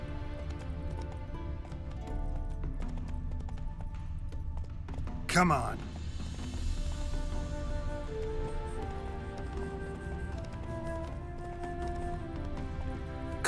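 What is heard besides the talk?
horse galloping in video game Witcher 3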